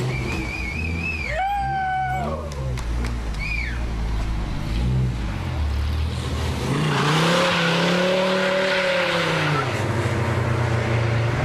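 The Zakspeed Dodge Viper race car on the Nordschleife circuit roars through repeated upshifts and downshifts, its engine note climbing and dropping in loud surges, with a brief tire squeal and a long rising howl toward the end.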